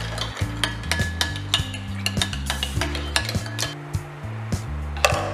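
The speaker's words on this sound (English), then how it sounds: "Then we're gonna give it a stir." Yogurt being stirred into pancake batter in a bowl, with a steady run of scraping strokes and frequent utensil taps against the side, close and fairly loud.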